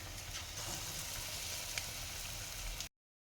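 Aratikaya bajji, raw banana fritters, fry in hot oil with a continuous dense sizzle and bubbling crackle at moderate volume, cutting off abruptly at the end.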